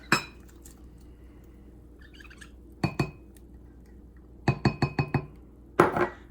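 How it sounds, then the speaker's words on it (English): Utensils clink against a pot while remaining onions are stirred into Salisbury steak meatball gravy in an Instant Pot, with a single tap, then a pair, then a quick run of four or five clinks and a final scrape, all fairly close with quiet gaps between. "we are going to mix in the remaining onions"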